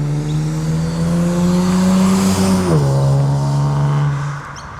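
A Kia Stinger GT with its DM exhaust valves open drives past, a loud deep droning exhaust note that swells as it nears, then drops in pitch and fades as the car moves away, with no talking.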